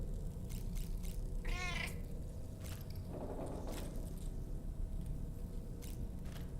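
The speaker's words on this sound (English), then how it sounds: "Did I just hear meowing in my room?" A cat in the Death Stranding 2 video game gives a few short, close meows, one clearly rising and wavering, over a steady low background hum.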